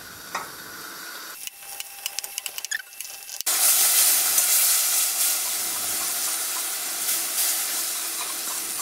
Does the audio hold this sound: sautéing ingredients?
yes